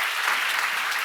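Short burst of vigorous clapping from a seminar audience at a church Bible session, many hands at once, loud and close with no speech.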